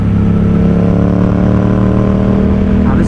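A 2018 Yamaha XSR700 motorcycle engine with a fuel injection booster plug drones loud and close, a steady throbbing rumble with a fairly even pitch held from start to finish.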